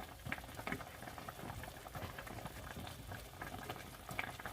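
Onion and pork steak simmer in a pan for Bisaya bistik, giving a steady bubbling, popping patter throughout with scattered louder pops, close and moderately loud, no voices.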